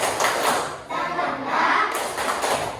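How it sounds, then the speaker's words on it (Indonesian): A classroom of students does 'tepuk semangat', a rhythmic spirit clap, with many hands beating together in a dense, steady patter that fills the room, briefly pausing mid-pattern before resuming. "Tepuk semangat."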